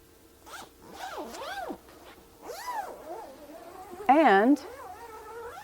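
A zipper on a quilting frame's backing or pickup leader is zipped on in a short, loud rasping burst near the end, with a person talking over a faint background hum before it.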